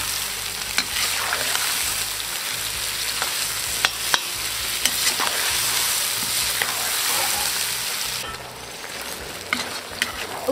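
Onion frying with meat in a pan for beef plov, a loud continuous sizzle with occasional sharp clicks and scrapes of stirring, easing slightly toward the end.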